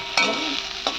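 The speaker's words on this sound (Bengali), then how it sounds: "আর এদিকখানে মা কলমি শাকটা ভাজছে" Kalmi greens (water spinach) stir-fried in a pan for a simple home lunch: a steady close sizzle with two sharp scraping stirs of the spatula, no talking.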